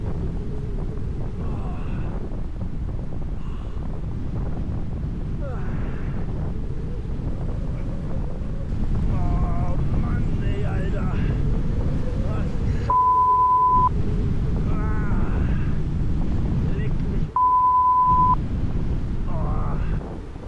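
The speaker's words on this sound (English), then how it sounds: "It was incredibly cold and windy." Steady wind roars and buffets across the microphone outdoors in cold mountain conditions in Spain, a constant low rumble with a couple of brief electronic beeps partway through.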